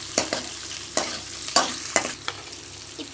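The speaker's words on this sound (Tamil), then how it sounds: "இப்போ நல்லா இதை வதக்கிடலாம்." Whole onions sautéed in a pan for tomato kuzhambu, with a spatula scraping in about six distinct, evenly spaced strokes over a soft background sizzle, close and clear with no talking.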